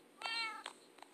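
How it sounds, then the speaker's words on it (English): A cat meows in the Minecraft video game: two or three short, close in-game mews, the first longest and clearest, the later ones brief and softer, over faint background ambience. "lovely cat right here, named Thor"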